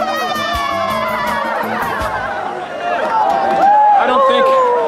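Crowd at an ice swimming event in Harbin cheers and calls out to swimmers emerging from the frozen water, a dense mix of excited shouting voices and chatter that swells louder toward the end.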